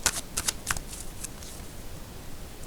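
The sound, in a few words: shuffling and drawing tarot cards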